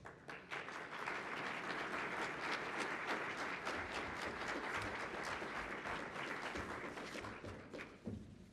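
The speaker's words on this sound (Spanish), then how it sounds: "lo recibimos con un fuerte aplauso" An audience at a university lecture gives a warm, sustained round of applause to welcome the speaker, dense clapping that swells quickly and holds for several seconds before tapering off, with no talking.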